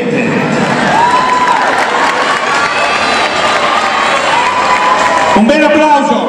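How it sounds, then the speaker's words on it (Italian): Audience applause and cheering at an Italian charity performance event, loud and sustained, with children's shouts and voices mixed throughout. "Un bel applauso e un saluto"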